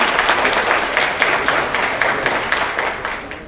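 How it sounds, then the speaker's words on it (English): Delegates applaud at an evening tourism promotion event in Kuala Lumpur, a dense burst of many hands clapping together that gradually thins and softens over a few seconds. "I would like to ask all the delegates here to give him a big applause to him again."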